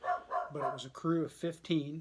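A dog barking and yipping several times in quick succession, close and fairly loud, mixed in with someone talking over it indoors.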